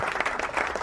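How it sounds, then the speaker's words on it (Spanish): An audience applauds a guest physician in a brief burst of fairly close, uneven clapping from a small crowd. "con este aplauso te agradecemos"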